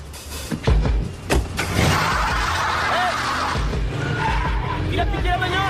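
A stolen car speeds away in an action film, tires skidding and squealing loudly after sharp impacts, with engine roar and a smash of breaking glass, while voices shout in the background.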